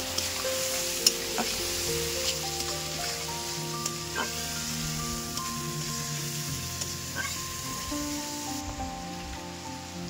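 Spices with turmeric and chili powder frying in hot oil for a fish curry, a soft continuous sizzle with faint stirring scrapes and occasional clicks, fairly quiet and alone without talk.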